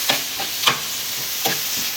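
Ginger-garlic paste and onion masala being stirred in a cooking pan, giving a few soft scraping strokes at an uneven rhythm over a faint background sizzle.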